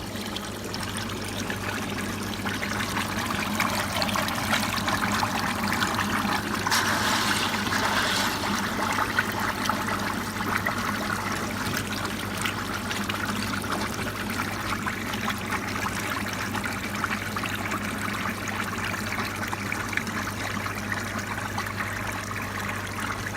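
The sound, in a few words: water bubbling and trickling through home-made koi pond filter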